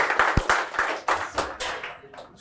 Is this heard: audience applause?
yes